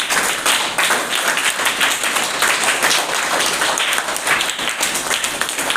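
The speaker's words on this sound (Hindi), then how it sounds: "जोरदार ताली लोग के लिए बजाइए।" Loud, dense applause from an audience at a school flag-hoisting event, steady continuous clapping filling the whole stretch with no talk over it.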